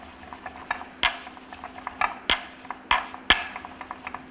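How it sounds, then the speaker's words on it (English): A utensil works homemade basil seasoning around a bowl with firm pressure, giving a sparse series of scraping clinks and a few sharper taps against the dish, close and otherwise quiet. "And you wanna add a little pressure to your mix here. And really thoroughly mix it."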